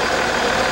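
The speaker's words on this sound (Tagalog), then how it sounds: "Umaandar pa ang makina ng nadiskaril na tren ng datna ng GMA News sa barangay Fort Bonifacio sa Taguig" The diesel engine of a derailed PNR passenger train in Fort Bonifacio, Taguig, keeps running: a loud, steady idling rumble with no break.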